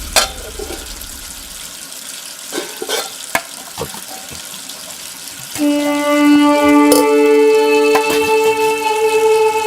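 Water is poured into a vessel, bringing a rising, ringing tone after scattered clinks and rustles, loud and close.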